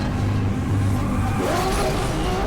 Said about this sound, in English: Why did you give it a V10 engine sound?